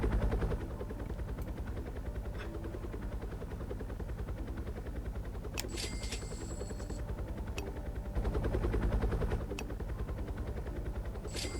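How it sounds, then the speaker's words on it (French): A helicopter in a video game, flying with a steady loud rotor drone throughout, joined by a few brief sharp clicks and interface beeps. "Transporte à hélico."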